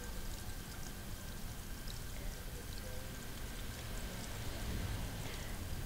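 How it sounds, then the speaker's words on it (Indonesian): Tap water runs steadily and fairly close while hands are rinsed clean under the stream, a continuous splashing rush with no speech over it. "Setelah itu kita hidupkan airnya kembali. Dicuci dan dibilas sampai bersih."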